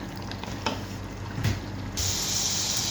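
Onions fry in a pan for a deccan-style biryani, a low steady sizzle with light stirring scrapes, turning into a brighter, louder hiss partway through.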